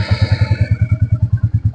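A motorcycle engine running close by after starting, its steady rapid low thumping loud and even for the whole stretch, with a brief whine fading early on.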